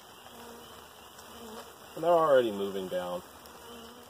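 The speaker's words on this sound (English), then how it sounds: "Oh my goodness, it's a waterfall of bees." Package honeybees are shaken into a new hive, and their buzzing swells into a loud, rising drone for about a second before easing off. People talk throughout.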